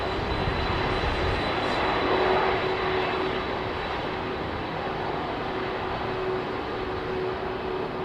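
A Boeing 767 airliner departs London Heathrow's runway 27R, its jet engines making a loud, continuous broadband roar that holds steady throughout, with no talk over it.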